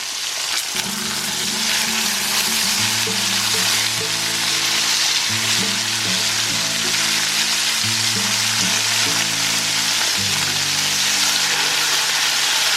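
Pork chops sear in a cast iron pan with a loud, continuous sizzle and crackle that holds steady throughout, over quiet background music.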